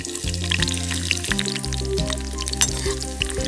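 Raisins drop into hot coconut oil alongside browning cashews, giving a crackling sizzle with scattered sharp pops, partly masked by steady background music throughout.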